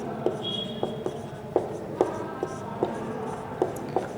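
Writing on a board during a maths class, a steady series of short tapping and scratching strokes roughly twice a second, close and clear with faint background murmur.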